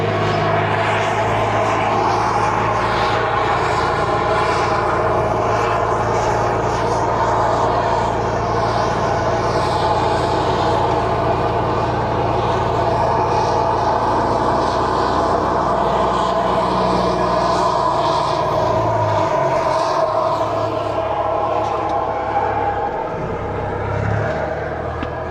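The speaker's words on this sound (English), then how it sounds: "do a little bit of off-roading here." Vehicle driving off-road, a steady, loud engine drone with rumbling road noise lasting throughout, with slight shifts in pitch near the end.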